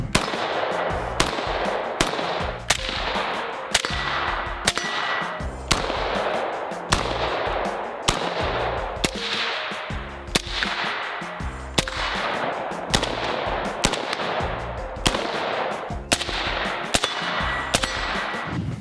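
Rifle gunfire from a SCAR 16S, a Sig MCX and a CZ Bren 2 rings out as a long series of sharp, loud shots fired in a steady rhythm, each crack followed by an echoing decay.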